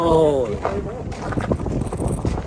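Gusts of wind buffet the microphone with low rumbling bursts, while a person speaks briefly over the noise.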